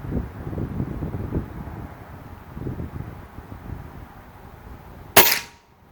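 A single sharp airgun shot cracks out near the end, fired at a target on an upward angle at 25 yards outdoors, after several seconds of wind buffeting and rustling around the shooter.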